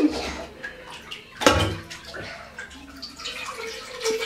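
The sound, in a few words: child splashing water in a bathtub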